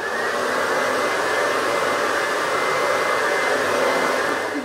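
Hair dryer blowing steadily and loudly at close range, a continuous broadband whoosh with a faint motor whine, used while drying and styling hair into waves and curls.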